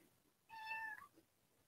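A single cat's meow, a clear tonal call lasting about half a second, faint and close against a quiet background.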